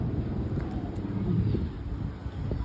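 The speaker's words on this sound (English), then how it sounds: "it's not cold, it's a bit windy, but it's quite warm." Steady wind buffets an outdoor terrace at Lyme Regis, forming a continuous low rumble that fills the whole stretch without clear gusts or other sounds.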